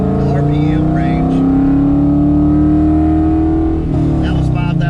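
Coyote-swapped Fox Mustang engine climbing steadily toward 5,000 RPM, a loud close rising drone with strong harmonics, then a brief dip and a fresh pull near the end; voices talk faintly over it.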